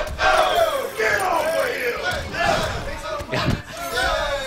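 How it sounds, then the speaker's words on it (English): A tournament crowd roars and cheers at a Mortal Kombat XL fighting-game match, with loud sustained shouting and bursts of excitement, and a commentator's voice running over the crowd. "Crowd losing their mind over some sick reads."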